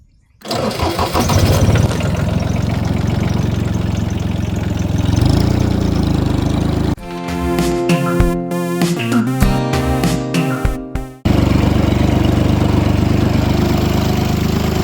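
A tractor engine cranks and catches, then runs at a loud, steady idle close by, breaks into an uneven stretch of knocking and revving midway, and settles back into a constant throbbing drone.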